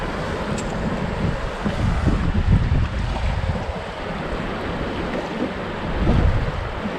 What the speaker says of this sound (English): it's really hard to cast in this much wind